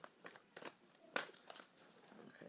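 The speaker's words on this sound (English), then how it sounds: "Let me shuffle." Oracle cards shuffled by hand in a living room, a quiet series of soft papery flicks and rustles with one sharper snap midway.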